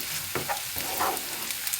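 A filling for green olive börek sizzles and is stirred as it sautés in a pan, a soft continuous frying hiss broken by a few scraping stirs, close and fairly quiet with no voices.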